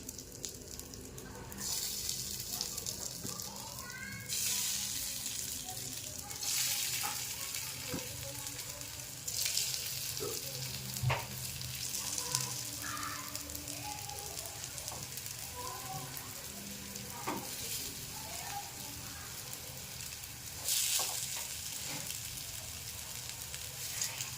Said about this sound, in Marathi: तवा चांगला गरम झाला की त्यावर आपल्याला एक एक वडी ठेवून घ्यायची आहे